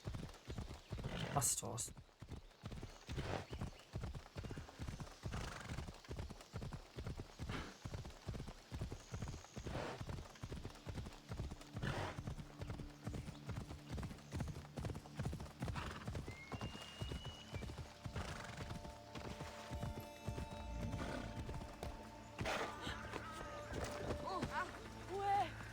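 Steady clip-clop of a galloping horse's hooves in Assassin's Creed Odyssey, rhythmic and continuous, slowing later amid game ambience and a few spoken words.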